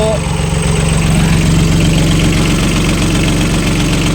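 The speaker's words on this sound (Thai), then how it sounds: "เครื่องคูวต้า เครื่องรถไถครับคูวต้าสามสูบสิบหกแรงครับผม" A Kubota three-cylinder 16-horsepower diesel engine on a three-wheeled farm vehicle idles nearby with a steady, loud, throbbing rumble and knocking chug throughout.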